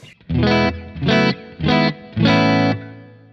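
Electric guitar through a POG octave pedal into a Kemper Profiler, sounding four sustained distorted chords with a shimmering doubled tone, the last held longest, each separated by a brief gap.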